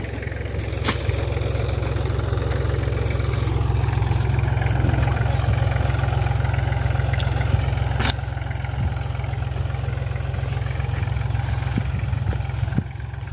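An Iseki tractor engine runs steadily throughout at a constant low rumble while planting sugarcane, with a few faint clicks and knocks over the drone.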